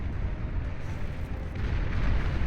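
Artillery fire and explosions from the video game Beyond All Reason in an 8v8 deathmatch, a dense, continuous rumble of booms and blasts that swells slightly toward the end.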